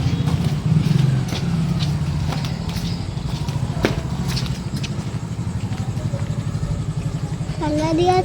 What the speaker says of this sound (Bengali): এখানে বাইক ঢুকছে।